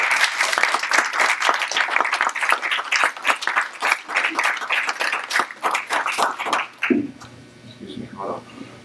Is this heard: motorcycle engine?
no